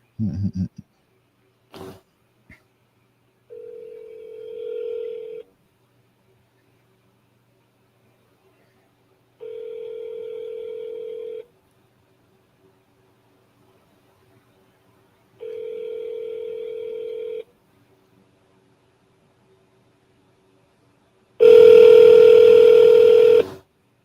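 Telephone call ringing out: three evenly spaced ringback tones each about two seconds long, then a loud burst of redial tones at the end, with no talking.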